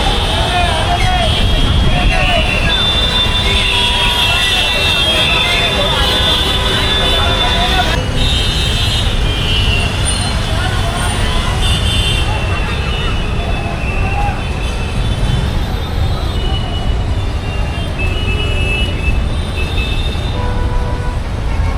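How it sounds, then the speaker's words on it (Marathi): Heavy traffic crawls on a rain-soaked Mumbai road below a bridge near a flooded Kurla, making a constant dense roar of engines and wet road noise. People talk over the din. "मित्रांनो खाली ट्रॅफिक हा मोठ्या प्रमाणामध्ये लागलेला आहे"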